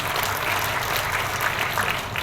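A church congregation at a New Year's service applauds loudly and continuously, a dense wash of clapping filling the room.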